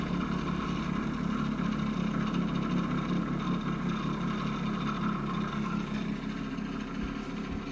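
An 8-inch rotor with 9 magnets spins at about 2700 rpm, giving a steady, loud, droning hum with a fixed low pitch and a rattly, shaking edge. The drone continues unbroken throughout, with no talk.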